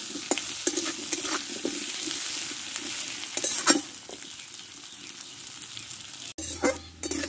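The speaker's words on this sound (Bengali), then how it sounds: "আলুটা একটু ভালো করে কষে নিব" Potatoes being stir-fried in hot oil in a pan, a continuous sizzle with repeated scraping stirs throughout, close and fairly loud, ending with a brief clatter.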